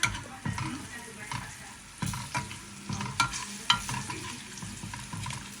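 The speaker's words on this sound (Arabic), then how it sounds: "بيحمس البهارات والتوابل كلها مع البصلة" Spices and onion frying in a pan while being stirred, with a steady sizzle and repeated scraping stir strokes close by, no talking.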